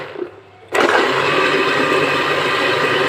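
Electric blender switched on at low speed to mix homemade creamy cheese made from soured milk while oil is added, a quiet pause and then an abrupt loud, steady whirring motor that runs on evenly.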